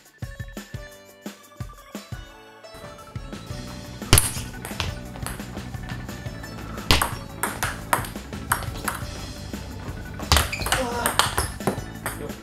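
Table tennis drive serve: a sharp ping of the ball off the racket, followed by several more crisp ball taps and bounces with background room noise and faint voices.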